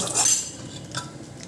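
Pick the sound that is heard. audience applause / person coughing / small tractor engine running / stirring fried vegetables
stirring fried vegetables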